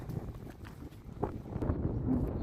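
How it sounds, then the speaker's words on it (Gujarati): Strong wind gusts across an open sesame field near Lalpur, a steady low rumbling buffet against the microphone that swells and eases over a couple of seconds, fairly quiet and with no talking. "એટલો પવન છે."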